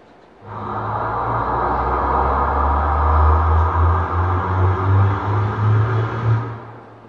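A steady low engine rumble fills a car interior, droning and building slightly as the vehicle accelerates, with no voices.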